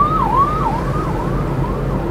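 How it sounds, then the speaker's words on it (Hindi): An ambulance siren wails on a Delhi road, its pitch sweeping up and down in a steady repeating cycle, loud and close over a constant rumble of traffic. "एम्बुलेंस है भाई"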